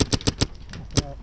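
Paintball markers firing in rapid bursts during a speedball match, a string of sharp close pops followed by a couple of isolated shots, with shouting voices nearby.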